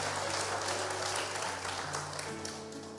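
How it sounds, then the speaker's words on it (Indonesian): Congregation applauding during a Sunday church service, a sustained wash of clapping over low steady organ or keyboard tones that change pitch, the clapping fading gradually toward the end. "Tepuk tangan dulu bagi Tuhan Yesus."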